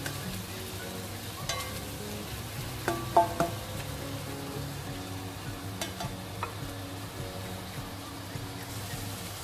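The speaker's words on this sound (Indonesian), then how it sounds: "ini berbusa minyaknya karena pakai minyak kelapa" Seasonings stir-fried in foaming coconut oil, a soft continuous sizzle with scraping and occasional clinks of the utensil, joined by a low background hum, fairly quiet and steady for the whole stretch.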